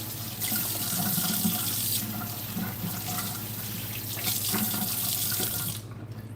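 A kitchen tap runs steadily into a sink while dishes and a wooden cutting board are washed, water splashing and gurgling close by before the flow stops near the end.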